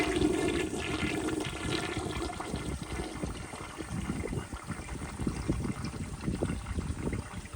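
A 1970 American Standard Cadet toilet with bedpan lugs flushes with a rushing gush of water that continues as steady churning and trickling refill, close and fairly loud, without voices.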